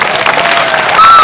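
A brief burst of audience applause and cheering, loud and close, crowd noise swelling over a short moment with some voices mixed in.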